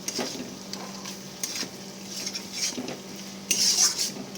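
Spices are stirred with mutton fat and trimmings in a pan, giving a steady soft sizzle with repeated scraping and clinks of a utensil against metal, louder near the end.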